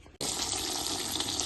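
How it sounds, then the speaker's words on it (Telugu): Rice being washed for bagara rice in a home kitchen: after a brief quiet moment, water suddenly starts rushing and splashing steadily up close, a continuous loud hiss with no talking. "ఫస్ట్ రైస్ తీసుకొని రైస్ కడుగుదాం."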